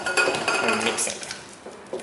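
A utensil mixes a creamy batter of heated flour and egg yolk in a bowl, making continuous close scraping and clinking against the bowl.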